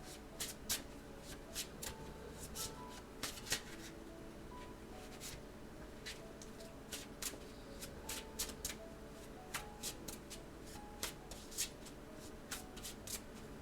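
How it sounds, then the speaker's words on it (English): Tarot cards being shuffled by hand, a quiet, continuous riffling and soft slapping with intermittent taps as cards drop, close and fairly faint with no talking. "dropping cards"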